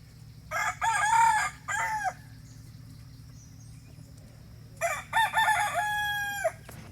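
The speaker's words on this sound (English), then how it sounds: "we went ahead and gave them to the chickens" A rooster crows twice in a spring garden, each call a long drawn-out cock-a-doodle-doo, with a soft steady hum underneath and no talking.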